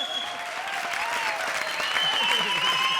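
A comedy show audience claps steadily in a studio, the applause dense and continuous while sustained tonal sounds and possible voices run over it, swelling slightly toward the end.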